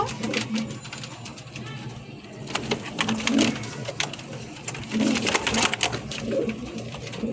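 A pair of white fancy running pigeons coo in low, throaty, repeated rolls close by, under and between steady talk, with a constant background hum.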